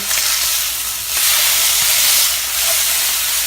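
Pork pieces sizzle in a hot pan as they are flipped, giving a steady broadband hiss that swells twice with the turns, fairly loud and close with no talking.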